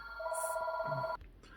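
A telephone bell rings loudly in steady repeated trills for about a second, then cuts off abruptly, leaving faint room noise with no talk.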